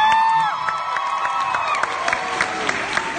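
A lecture audience claps and cheers loudly, with scattered whoops and shouts rising above steady applause throughout.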